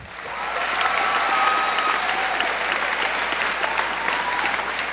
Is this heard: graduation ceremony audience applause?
yes